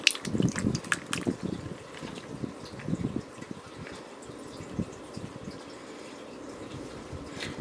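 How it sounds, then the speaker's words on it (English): Water slowly poured onto the soil of a potted plant, soft trickling and splashing with a few louder clustered pours early on, then a quieter steady seep. "But what you do is you slowly water"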